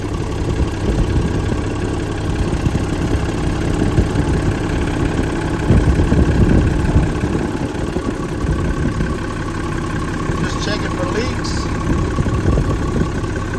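A DT466 diesel engine idles steadily with its clutch fan fitted, a continuous low rumbling drone with a faint mechanical knock that holds fairly loud and close throughout.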